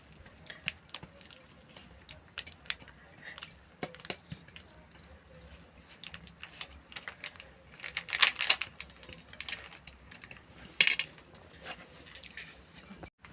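A metal spatula spreads and smooths chana dal halwa across a greased plate, making sparse, light clicks and taps, with a few louder clinks midway and near the end.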